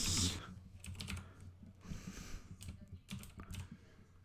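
Rapid typing on a computer keyboard while entering a name and email address into an online chat client login form, with clustered key clicks in quick bursts, close and clear against a low background hum.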